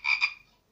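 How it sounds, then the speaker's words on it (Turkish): A single short frog croak sound effect from the Lego WeDo 2.0 coding app plays once, bright and clear, then cuts to silence. "Şimdi kurbağa sesi ekle bakalım."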